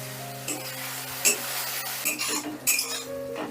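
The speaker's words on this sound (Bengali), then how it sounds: "এবারে ভালো করে কষে নিচ্ছি" A spoon scrapes and stirs a spice paste in a pan for a vegetarian Bengali ridge gourd curry, with soft sizzling under irregular metallic clinks and knocks, close and moderately quiet.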